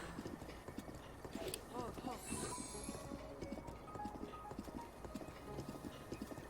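Horse hooves clip-clop steadily in Breath of the Wild, with a short whinny partway through, all over a busy layer of game sounds and a voice in the background.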